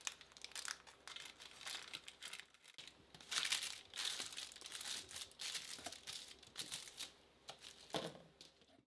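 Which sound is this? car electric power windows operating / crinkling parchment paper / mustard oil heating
crinkling parchment paper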